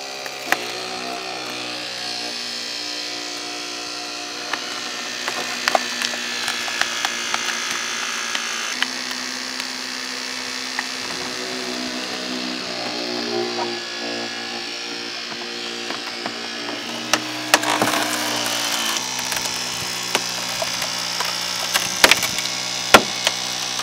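A powered hydraulic rescue tool works through a car's A post during a vehicle extraction, giving a long, steady mechanical drone with scattered sharp cracks and creaks of metal and trim that grow busier toward the end.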